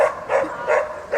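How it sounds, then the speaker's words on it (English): A nearby dog barks three times in a steady rhythm, each bark loud and full, with no voices over it. "there's a dog barking over there."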